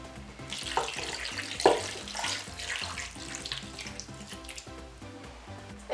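About one and a half cups of water poured into an Instant Pot for a roast pork loin, a steady splashing gush with a few louder splats, heard close over faint background music.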